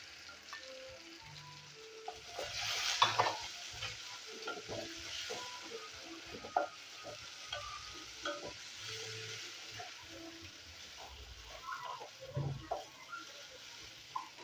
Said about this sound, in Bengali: সবগুলো একটু ভাজা ভাজা করে নেবো। এবার দিয়ে দেবো পেঁয়াজের কুচি, কুচানো পেঁয়াজ একটা মাঝারি সাইজের।